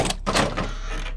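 A door is opened in a Hindi film scene, giving a brief, close scraping rush of sound that fades quickly.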